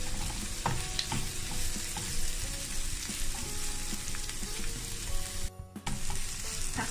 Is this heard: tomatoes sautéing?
yes